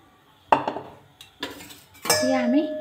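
Mashed palm pulp going into a metal kadai for palm pithe: a sharp clatter of pot and utensil, a few lighter knocks, then a sustained scraping clang with a ringing metallic tone near the end.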